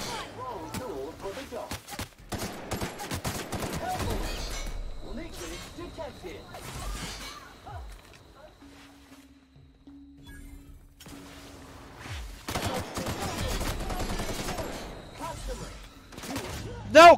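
Bursts of gunfire in The Outer Worlds, clustered volleys of sharp reports early on and again near the end, with a quieter stretch between and speech running underneath.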